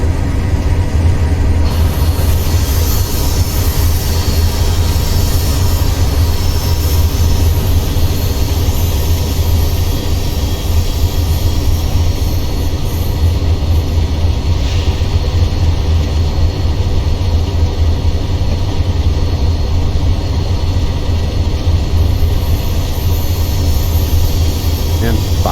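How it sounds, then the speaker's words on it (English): GE diesel locomotives in Train Simulator, five units at Notch 8 on the Arizona Divide, roar steadily with a deep, continuous, sputtering engine drone that stays loud throughout. "You can hear those GEs working, too. They're sputtering and belching,"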